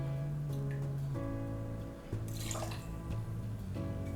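Sazerac rye whiskey poured into a mixing glass, a faint close trickle and splash of liquid over a low steady background hum, no talking.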